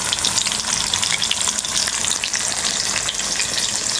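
Red snapper fries in oil on a low flame, giving a loud, dense and unbroken crackling sizzle close by, with no pauses.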